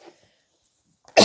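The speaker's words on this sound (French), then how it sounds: "Il est possible que je tousse beaucoup" A single sharp cough bursts out at the very end after near silence, loud and brief.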